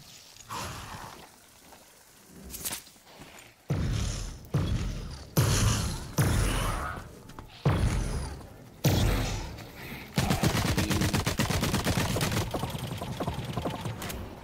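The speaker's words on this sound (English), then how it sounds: "Are those your shots?" Gunfire in The Cycle: Frontier, a loud burst of separate shots and thuds, then a dense, continuous rattle of rapid fire over the last few seconds, with no talking.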